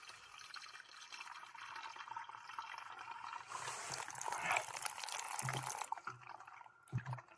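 Water is collected into a container outdoors, likely from a well, with a continuous rushing, splashing pour that swells louder midway, then breaks into a few separate splashes and drips near the end.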